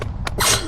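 A single short, sharp sneeze bursts out near the end, preceded by a brief catch of breath.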